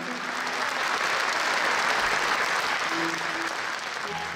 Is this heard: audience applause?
yes